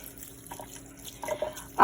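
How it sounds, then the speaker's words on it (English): Water mixed with fertilizer poured from a pot onto potted orchids, with soft splashing and dripping that picks up in short bursts toward the end; no voices. "I'm going to probably pour this entire pot of water and fertilizer in here."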